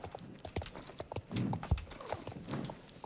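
Horse hooves clip-clopping in the Star Stable video game, a steady walking rhythm of soft hoof strikes with one heavier thud midway, faint and continuous, with no talking.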